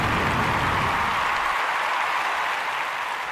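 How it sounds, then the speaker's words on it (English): Dense, steady applause from an audience, filling the whole moment at an even level and easing off slightly toward the end, with no voices over it. "Hold your applause."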